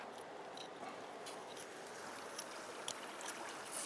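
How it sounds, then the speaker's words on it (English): Water splashing and trickling steadily down through a gold sluice mat on a KEENE Mini Max highbanker concentrator, a continuous close wash of rushing water with faint scattered ticks and knocks. "we're gonna get a little bit of water and splash it down in through there"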